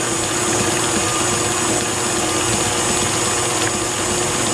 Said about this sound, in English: I kind of just gradually up my speed on the mixer